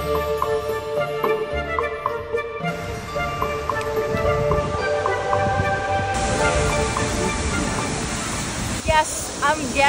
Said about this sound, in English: So we're actually gonna do a circle around the waterfall.